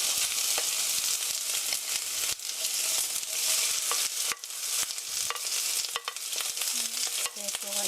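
Sliced onion stir-frying in a pan for Korean japchae, a steady loud sizzle with scraping stirring strokes throughout, close up and without voices.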